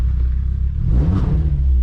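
A Volkswagen Mk4 Golf VR5 five-cylinder engine revs with a deep, throaty rumble that swells and climbs in pitch, loud and close, with no talking.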